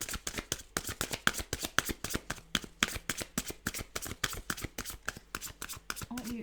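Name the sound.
shuffling tarot cards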